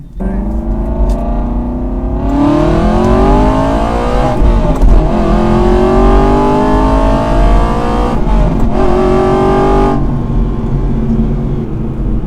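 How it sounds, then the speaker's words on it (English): An Aston Martin V8 Vantage with a tuned exhaust and ECU tune accelerates hard, its loud engine note climbing steadily through the revs over several seconds, briefly dropping between gears before rising again. "You can probably hear that exhaust super clearly through the camera here, but she is loud."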